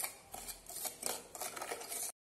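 A chicken marinade with chaat masala and lemon juice is stirred in a bowl, making soft, close scraping and swishing for about two seconds before cutting off abruptly.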